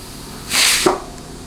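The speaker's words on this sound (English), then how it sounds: "hear all that trapped air whooshing out" Compressed air forced into the forward clutch circuit of a rebuilt 4L60E automatic transmission releases trapped air as a short, loud whooshing hiss of under half a second, ending in a faint click. No one speaks.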